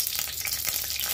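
Panch phoron spices crackling in hot mustard oil, a dense, bright, steady sizzle close up for a brief moment, with no speech.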